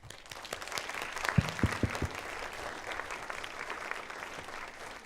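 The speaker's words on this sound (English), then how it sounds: "Please give a big round of applause." Audience at a youth conference breaks into a big round of applause for a special speaker, a loud, steady wash of many hands clapping across the hall, with a few sharper nearby claps and a faint voice near the start.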